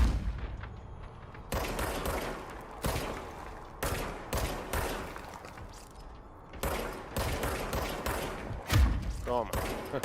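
Rapid gunfire in the action game Control, bursts of shots and thuds coming in uneven clusters throughout, loud and close, with a voice talking underneath.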